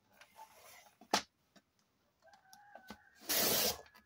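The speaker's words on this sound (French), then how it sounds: "Ah, le premier coq du matin, à 4 heures." A rooster crows in the early morning, around 4 a.m., the call faint and distant in a quiet setting, with scattered small clicks and taps nearby and one louder burst of noise near the end.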